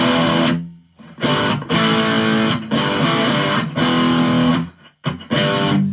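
Loud, crunchy distorted electric guitar chords strummed hard in repeated bursts with short gaps between them, no voices.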